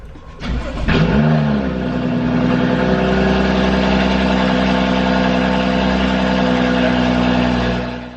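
BMW 435i car engine cranks and fires up, then settles into a loud, steady idle that runs close and continuous with no talk over it.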